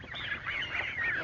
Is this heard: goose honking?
yes